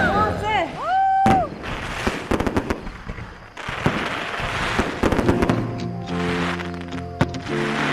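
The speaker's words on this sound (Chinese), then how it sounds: "烟花， 放炮了。" Fireworks going off outdoors, with a whistling rise followed by bursts of crackling and popping explosions, loud and close, while people talk and exclaim over them.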